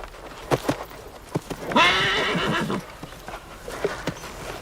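A wild horse in a film scene from Ned Kelly (2003) lets out one loud, quavering whinny lasting about a second, between soft hoof thuds and rustling.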